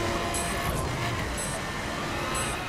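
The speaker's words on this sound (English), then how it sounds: "Move out of the way, ambulance!" An ambulance siren in The Crew racing video game gives a repeating high beep about once a second. It sits over loud, steady road and engine noise.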